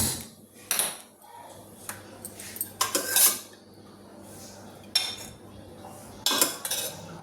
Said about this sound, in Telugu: ఈలోపు ఒక గిన్నె పెట్టి ఆయిల్ వేద్దాము